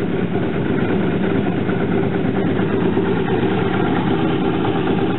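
Honda Aquatrax jet ski engine with a knock sensor fault runs at a steady, even idle, a close, continuous mechanical rumble with no change in pitch.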